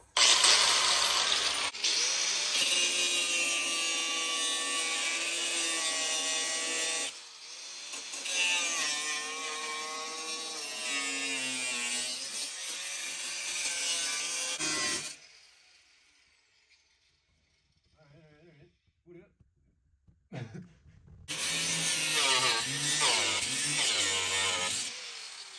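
A loud power cutting tool bites through a Ford Ranger truck firewall in long screeching runs, pausing to near silence midway before a final burst of cutting.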